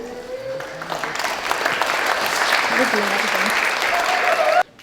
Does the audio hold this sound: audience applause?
yes